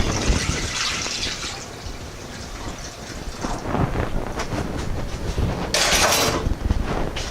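Liquid is poured into a frying pan holding leftover beef broth from beef cooked in olive oil, a continuous splashing, hissing pour with a brighter surge of sizzle and gush toward the end.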